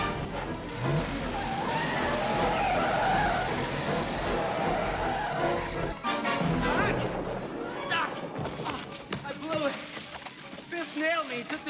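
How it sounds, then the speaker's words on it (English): A car from Back to the Future Part II skids with squealing tires and speeds off, a loud, busy burst of engine and tire noise mixed with voices and film sound effects. "He drove away with it in his car."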